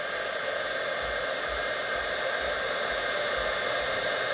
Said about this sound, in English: So I just have my heat tool. I I'm letting it heat up for a second.